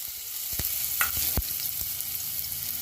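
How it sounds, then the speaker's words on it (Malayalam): Finely chopped garlic sizzles steadily in hot sunflower oil in a pan for vegetable egg noodles, a close, continuous crackle broken by a few sharp clinks of stirring and no speech. "ചൂടായ ശേഷം ഇതിലേക്ക് പൊടിയായിട്ട് നറുക്കിയ ഗാർലിക്കും"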